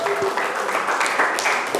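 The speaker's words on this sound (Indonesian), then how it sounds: "Saya tepuk tangan" Short burst of applause from a class during a teaching session, dense mixed clapping, moderately loud with faint voices underneath.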